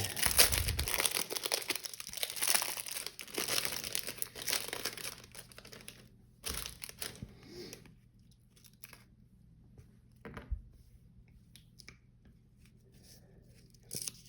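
Crinkly cellophane wrapper of a 1982 Topps football cello pack being torn and crumpled, busy close rustling for about six seconds, then sparse quiet crackles and handling sounds.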